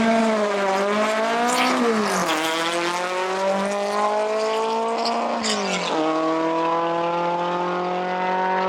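A no-prep drag race car screams at high revs, its rising engine note dropping sharply twice as it shifts gears, loud and continuous throughout.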